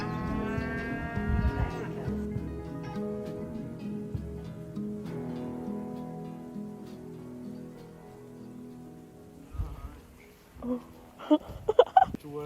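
A lost cow moos on a farm, with long, low, drawn-out calls near the start and again midway, followed by scattered knocks and taps toward the end.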